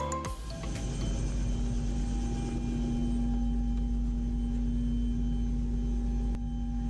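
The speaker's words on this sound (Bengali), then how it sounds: "এখন চলুন হেলিকপ্টার ভ্রমণ এনজয় করি।" A helicopter in flight between Dhaka and Bogura produces a steady, loud, droning engine and rotor roar with a constant hum, heard from inside the cabin without pause.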